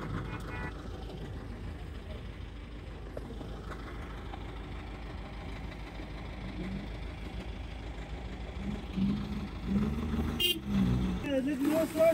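Traffic jammed on a snowy road during cleanup near Kalam's Ushu Forest in Swat, with idling engines, a few horn toots toward the end, and people talking throughout.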